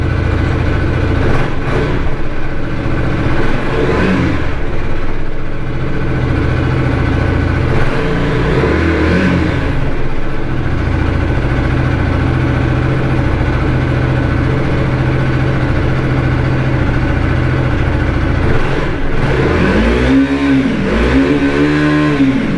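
A KTM Duke 250 motorcycle engine revs loudly up close, with a steady idle between throttle blips and a burst of rising and falling revs near the end.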